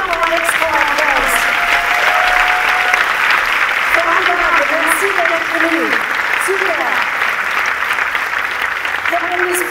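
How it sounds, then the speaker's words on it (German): Sustained, full applause from a large crowd at an outdoor stage discussion during a democracy festival, steady and loud for nearly ten seconds while voices carry over the clapping. "Bitte nochmal einen extra Applaus."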